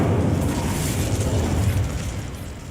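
The Incendio fire spell from Hogwarts Legacy is cast as a loud rumbling whoosh of flame that swells, then slowly fades over a few seconds.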